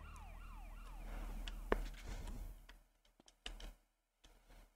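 An ambulance siren from the video game GTA Chinatown Wars wails in rising and falling sweeps, fading out after a couple of seconds into scattered clicks and short game noises.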